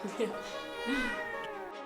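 A large cat meows on a television show's film set, a single drawn-out call over a continuous background with faint voices nearby.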